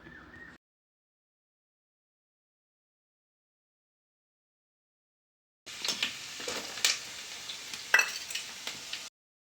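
Small garlic added to a pan while cooking a fish curry, fizzing and sizzling softly with a few stirring clinks after a long stretch of silence, close and without talk.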